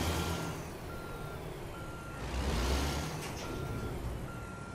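A truck in American Truck Simulator sounds its reversing alarm, a steady series of evenly spaced beeps over the low rumble of the engine, with no talk.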